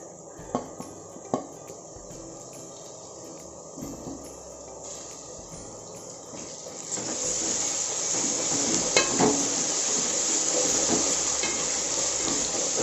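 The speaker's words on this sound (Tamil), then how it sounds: "இப்போ இஞ்சி பூண்டு பேஸ்ட் போடுறோம்." Ginger garlic paste and onions sautéing in a pot for goat biryani, a steady sizzle that swells louder partway through, with a few light clinks of a utensil against the pan.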